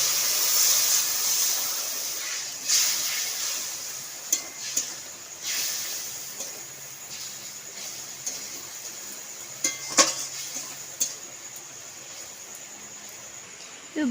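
Masala with chili powder, chopped tomato and a splash of water is sautéed in a pan, giving a steady hissing sizzle with scattered scraping stirs and clicks throughout.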